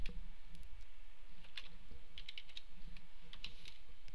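Clicky keystrokes on a computer keyboard come in quick irregular bursts, close and moderately loud over a low room hum, with no talking.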